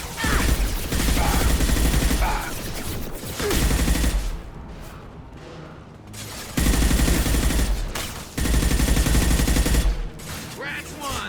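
Bursts of rapid automatic gunfire in a Mass Effect 2 firefight, loud volleys separated by short quieter gaps, with voices calling out in between.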